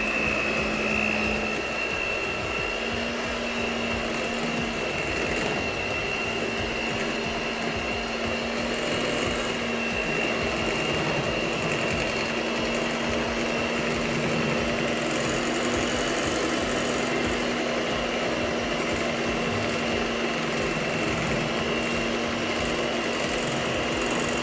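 An electric mixer whirs continuously through chocolate cake batter, a loud, even motor drone with a steady high whine, heard alone close up.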